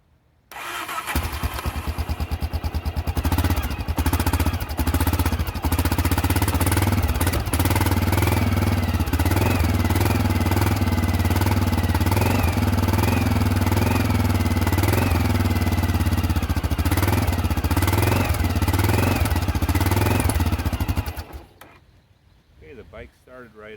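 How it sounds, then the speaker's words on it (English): A Honda XR650L motorcycle with a repaired CDI box cranks over, catches and runs at a loud steady idle close by for about twenty seconds before shutting off, with a faint mechanical clatter under it. "Bike started right up, needed a little bit of choking."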